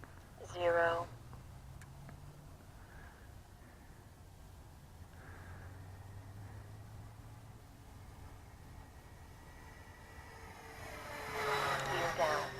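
A Dynam BF 110 remote-controlled twin-engine model warplane hums faintly and distantly through the air, swelling into two brief buzzing passes near the start and end, while a person talks.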